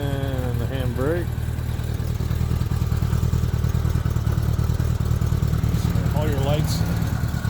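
A 1977 Honda GL1000 Goldwing motorcycle idling, a steady, even engine rumble running throughout while someone talks over it.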